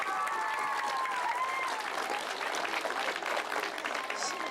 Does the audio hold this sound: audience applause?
yes